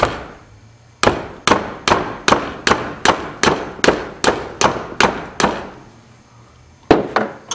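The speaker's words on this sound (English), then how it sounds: "I'm just going to go ahead and hammer the axle down" A hammer strikes the rear wheel axle of a ski to drive out the bearings, giving about a dozen loud, sharp metallic blows in steady rhythm, then a pause and two more hits, with no talking.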